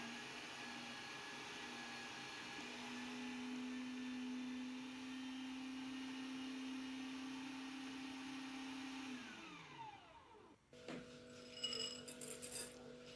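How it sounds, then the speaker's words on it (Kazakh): An electric meat grinder runs steadily with a loud motor whine while mincing meat together with a medium onion, then winds down and stops, followed by a few clinks and kitchen handling sounds. "Бір орташа пиязды да осы етпен бірге тартып аламыз."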